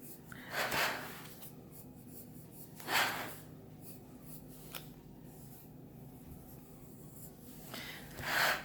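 Pencil lead scratching freehand circles on paper, heard as a few short, soft scribbling bursts spaced across a quiet stretch.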